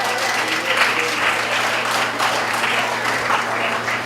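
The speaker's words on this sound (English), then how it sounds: "Can I get a hand clap for the Moving Forward movement?" A crowd at a Brooklyn rally claps steadily and densely for about four seconds, a continuous wash of many hands with no voices over it.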